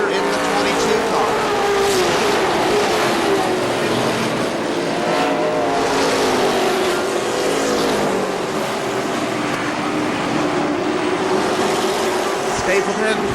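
Race cars battle side by side during a Labor Day race at KilKare Speedway, their engines roaring in a loud, continuous drone with shifting pitch, under an announcer's steady commentary.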